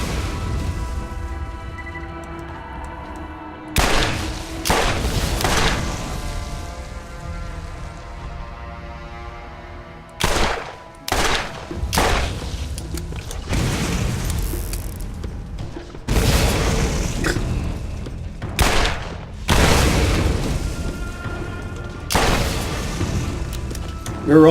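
Revolver shots ring out in Borderlands, several sharp loud booms in an irregular sequence, some in quick pairs, over a steady background of in-game noise.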